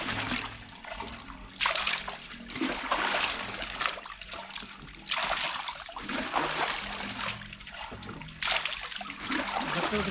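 Water gushes from an agricultural tubewell pumped by a diesel engine, a steady splashing rush broken by brief lulls, with faint low engine rumble beneath.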